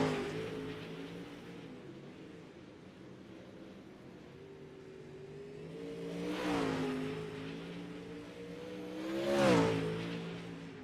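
Pro late model race cars racing on the Lernerville dirt track: a steady, distant multi-engine drone, swelling as one car roars closer past midway and another louder pass near the end, with no talk.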